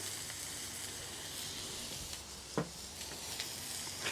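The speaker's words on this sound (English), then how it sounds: "This is a 80/20 ground beef burger, nothing fancy about it. We're just gonna drop that on there." A 5-ounce 80/20 ground beef burger patty sizzles steadily on a hot griddle, a constant close hiss with a few brief crackles and pops, no voices.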